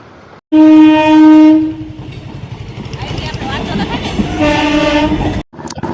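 Close train horn blasts loudly at the start, then a railway train rumbles past with rattling wagons and clattering wheels for several seconds before cutting off.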